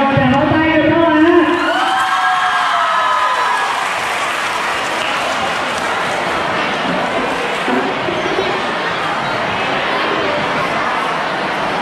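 A high school crowd at a spring-themed school performance breaks into loud applause mixed with cheers and whoops, which swells after a brief stretch of singing and music at the start and carries on densely throughout.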